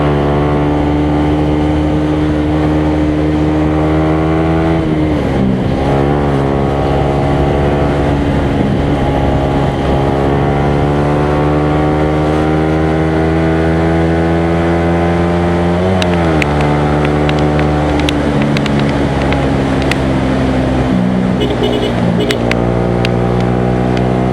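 A motorcycle engine drones loudly and steadily close by, its pitch rising and falling as it shifts and revs, with no voices heard.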